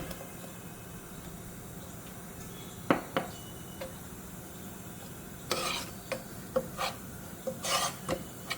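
Gram flour being stirred in hot ghee in a pan, a faint steady sizzle under soft spoon scrapes that cluster into a run of sharper scraping strokes toward the end.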